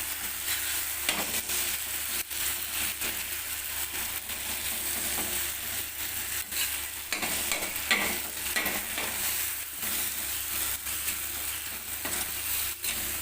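A tomato and wheat-flour dosa mixture sautés in a pan with a soft, steady sizzle, broken by frequent sharp spatula taps and scrapes as it is stirred, fairly quiet and close with no voices.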